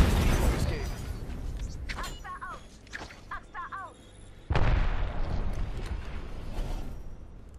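A frag grenade goes off in the Apex Legends video game, a loud burst near 4.5 seconds that rumbles on after it, following busy gunfire and game noise under talk.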